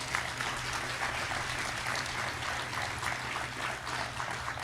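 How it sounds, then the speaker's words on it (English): Applause for award winners at a school awards ceremony: a steady wash of clapping from a room full of people, even in level and slightly distant, over a low background hum. "Let's give all of those award winners a round of applause."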